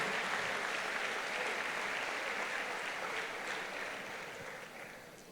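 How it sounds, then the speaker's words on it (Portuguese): Sustained applause from a church congregation during a worship service, a steady dense wash of clapping that fills the whole stretch and tapers slightly toward the end. "Aplauda de verdade"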